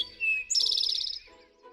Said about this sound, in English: the eastern towhee is a really great species for this part of Kingston